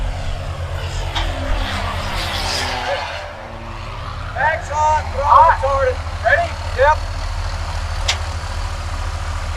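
A small propeller airplane at a fly-in is cranked by its starter, with a steady engine drone and rhythmic chugging pulses beneath people talking nearby.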